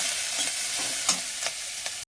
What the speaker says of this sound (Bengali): একটু হলুদের গুঁড়ো, একটু লবণ দিয়ে মশলাটা কষে নেব।